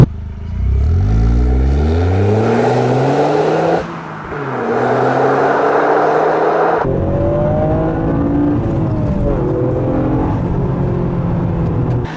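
Toyota GR Yaris with an aftermarket exhaust, heard from inside the cabin: the engine revs loudly through several rising gears, drops briefly, then settles into a steady, close drone as the car cruises.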